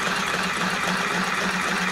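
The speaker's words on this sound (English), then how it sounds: "Doing a little slow stitching right there." A Michley LSS-202 Lil' Sew & Sew compact sewing machine stitching slowly, giving a steady, close motor hum with a soft, even mechanical rattle that carries on without a break.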